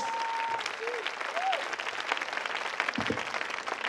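A church congregation applauding during a sermon, steady dense clapping from many people throughout, with a few brief vocal sounds mixed in.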